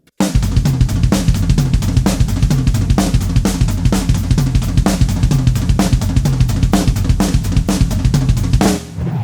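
A close, loud drum kit plays a triplet fill over steady eighth notes stomped on the hi-hat, dense repeating hits running for about nine seconds before stopping abruptly, with no voices.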